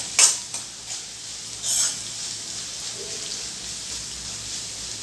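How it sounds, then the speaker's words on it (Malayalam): Garlic and ginger for a Kerala gooseberry (amla) pickle frying in a pan, with a steady soft sizzle and a few scraping clinks of the stirring spoon near the start. "നമുക്കിതൊന്ന് വെളുത്തുള്ളിൻ്റെ പച്ചക്കുത്തൊക്കെ മാറുന്നത് വരെ ഒന്ന് ഇളക്കി കൊടുക്കാം"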